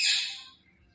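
Caged pigeons of the Kalanka and Matras breeds give a single bright, close chirp that fades within a second, leaving only faint background rustle.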